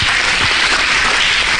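Church congregation applauding during a sermon, a dense steady wash of clapping filling the whole moment at close range, with no talking over it.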